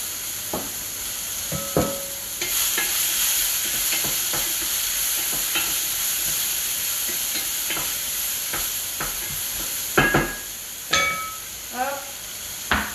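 Sliced courgettes fry in a pan with a constant close sizzle, while a utensil stirs and knocks against the pan at irregular moments. A voice speaks briefly near the end.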